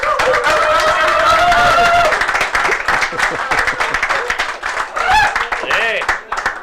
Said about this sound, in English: Shall we give that a big round of applause?